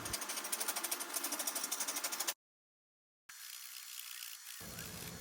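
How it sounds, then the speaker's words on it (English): A flat chisel smooths a wooden nunchuck workpiece spinning on a lathe, giving a steady buzzing whir with a fast pulse that cuts out to silence for about a second, then returns as a smoother hum. "Next, I'm going to smoothen it with my flat chisel."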